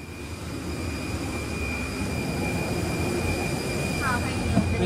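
Steady broadband rumble and hiss inside the economy cabin of a China Airlines Airbus A321neo airliner, a constant close drone with a faint tonal whine running throughout.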